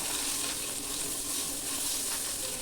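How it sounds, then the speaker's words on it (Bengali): Ginger and garlic paste with a little turmeric fries in hot oil, giving a steady, dense sizzle that fills the short stretch without any voice. "আদা আর রসুনটাকে একটু তেলে ভেজে নিতে হবে।"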